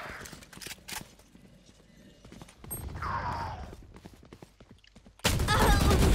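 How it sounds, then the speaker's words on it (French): Valorant gameplay with a swarm grenade being thrown, heard as a mix of clattering, rapid mechanical game effects and bursts. A loud, dense burst of noise comes near the end. "Je lance une grenade à essaim."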